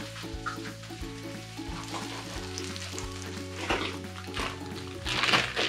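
Garlic and white onions sizzle in a pan with a steady crackling hiss, nearby and fairly quiet, as light stirring clatter and a louder burst of spatter come through near the end, with no talk.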